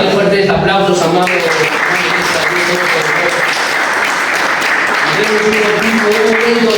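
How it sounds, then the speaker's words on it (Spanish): A church congregation bursts into sustained, loud applause mixed with cheering voices and shouts, dense throughout. "Dale fuertes aplausos"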